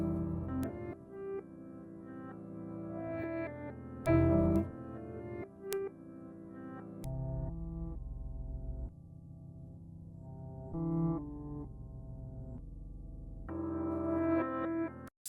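Melodic music sample slowed to half speed with FL Studio's Gross Beat plugin, a low, dragging loop with sustained bass tones and occasional sharp transient clicks, moderately quiet.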